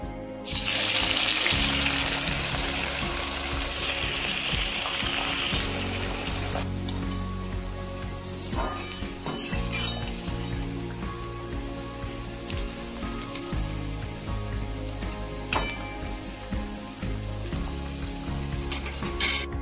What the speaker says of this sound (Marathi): आता आपण हे जे कांदे आहे हे आपण पूर्ण तळून घेऊया।